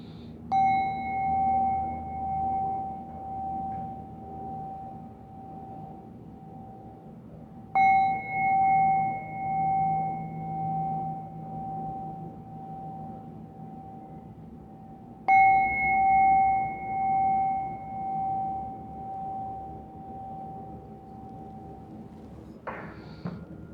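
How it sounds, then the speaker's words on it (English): A small bell struck three times at even intervals during a tai chi session, each strike a clear ring with a bright overtone that decays slowly over several seconds, heard alone in a quiet room. "Let the sound of the bell vibrate throughout your body"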